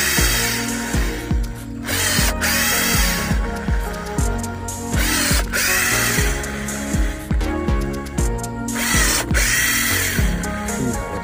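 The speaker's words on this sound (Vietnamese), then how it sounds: "Đây bây giờ khoan thử một cây" A power drill bores a test hole into the trunk of a red rosewood (sưa đỏ) parent tree, whining loudly and continuously with repeated bursts and slight changes in pitch as it bites into the wood.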